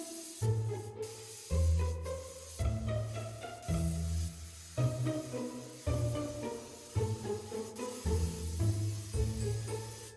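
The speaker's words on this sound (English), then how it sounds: "now I'm going to 2-pack it because I've gone down to the gel coat in some areas" Spray gun applying two-pack paint to the hull of a 25ft Bertram boat, loud hissing bursts repeating in roughly one-second passes with brief gaps between strokes.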